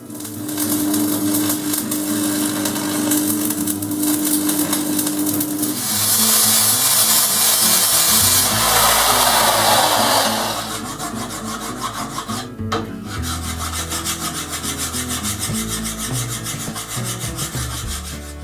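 Hand filing of welded-back metal on a tool and cutter grinder part, a steady rasping rub with repeated strokes, loud and close, with no talk.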